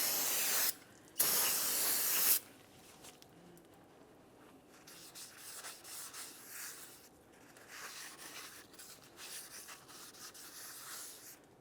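Brake cleaner hisses out in two loud close spray bursts onto a new front brake rotor for a 2006-2011 Honda Civic, followed by softer rubbing and wiping of the braking surface.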